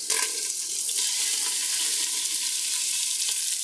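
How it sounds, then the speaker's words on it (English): Chunks of sweet and hot Italian sausage browning in a hot pan, a continuous loud crackling sizzle with occasional sharper pops, no voices. "I just cut them into chunks, and that is the next thing that's going to be browned"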